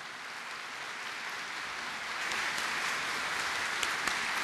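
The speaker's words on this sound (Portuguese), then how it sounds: "Vamos aplaudir Umberto," Steady audience applause for a speaker at a book event, a continuous wash of many hands clapping that swells a little partway through and holds to the end.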